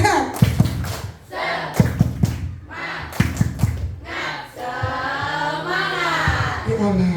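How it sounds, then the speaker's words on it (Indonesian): Schoolchildren in a sixth-grade classroom do the rhythmic 'tepuk semangat' clapping chant, sharp grouped claps in repeated patterns alongside their chanted voices, then sustained group shouting. "Coba sekali lagi, tepuk semangat."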